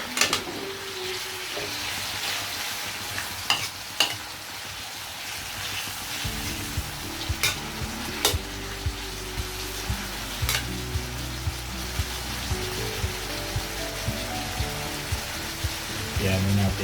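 Tomatoes sauté with squash and other vegetables in a pan, a soft continuous sizzle broken by occasional sharp clicks of stirring, with a voice speaking intermittently.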